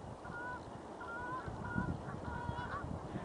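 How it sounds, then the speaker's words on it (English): Geese honk repeatedly at a marsh in the morning, a series of clear, fairly distant calls over a steady background murmur of outdoor ambience, with no one talking. "Geese, there they are. Hear them?"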